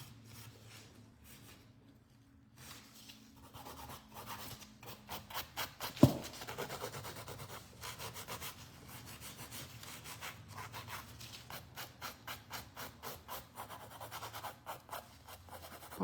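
An electric nail file buffs fingernails with a steady, rapid rasping that grows into a regular pulsing rhythm, close and fairly quiet, with one sharp click partway through.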